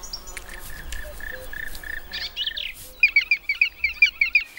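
Black woodpecker chicks in a tree-hollow nest, calling as a noisy, large family: a run of high, thin calls that turns into a rapid series of sharp, rhythmic chirps near the end, close and fairly loud over faint background sound.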